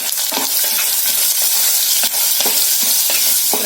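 Onion fries with turmeric and salt for a chicken red roast, a loud, dense sizzle close up with repeated stirring scrapes breaking through at an uneven rhythm and no voices.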